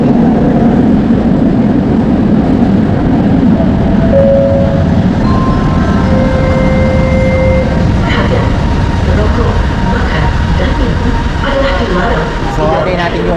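A metro train arrives on the line near KL Sentral in Malaysia, a loud rumbling roar with rising whine tones and some squeals building through the clip, with no voices heard.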